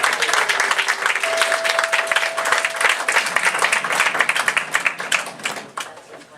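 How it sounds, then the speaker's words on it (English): An audience applauds warmly, with dense, steady clapping that holds at a strong level before tapering off near the end. "Let's have a round of applause."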